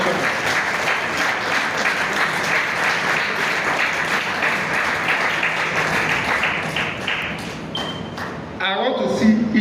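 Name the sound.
applause for the governor and commissioner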